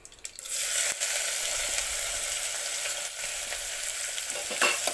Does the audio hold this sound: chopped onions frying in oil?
yes